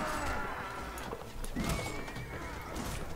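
Charging cavalry horses in Mount & Blade: Warband: neighing and whinnying rise over a dense, rumbling battle din, with hoof clatter and clashes close by throughout.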